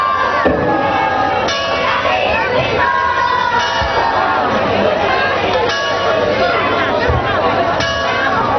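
Church bells ring continuously amid a busy crowd at an outdoor concert in Praiano, Italy, with chatter and shouting blending into the loud, dense clanging.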